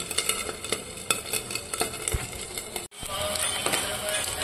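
A rice cutlet mixture sautéed in a pan, giving a close, busy sizzle with scattered stirring clicks and utensil taps, a brief dropout near the end, then the frying resumes.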